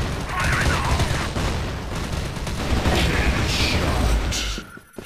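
An M4A1 Custom rifle in the shooter game Crossfire fires a dense, sustained stream of gunfire for about five seconds and then cuts off abruptly near the end.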